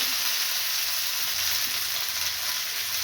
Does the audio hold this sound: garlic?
yes